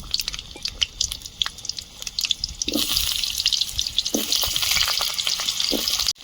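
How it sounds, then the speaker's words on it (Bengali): Potatoes frying in hot oil for a loach fish curry, a steady loud sizzle that grows denser midway, with occasional stirring clinks and drips throughout and no voices. "আলুগুলো ভেজে নেব"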